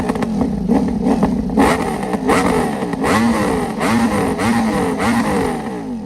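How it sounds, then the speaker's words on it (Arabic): A Ducati Panigale V4 motorcycle engine revs hard with sharp rising and falling throttle blips, loud and close, a repeated aggressive snarl from its Italian V4 exhaust with no voices. "ده مش صوت شكمان عادي، ده صوت غضب ايطالي."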